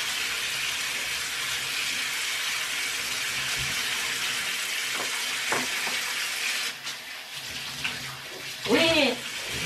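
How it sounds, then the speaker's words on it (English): Water is scooped and sloshed in a bathtub, with a steady rushing wash and a few distinct splashes and scoops toward the end, close up; brief voices are heard faintly. "I'm scooping the water."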